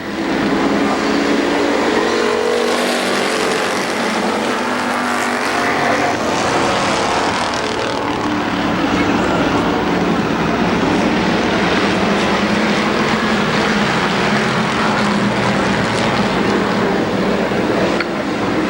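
Race cars at Columbus Motor Speedway roar loudly and continuously around the oval during the 1996 Race of Champions, a dense, unbroken engine drone with no break or voices.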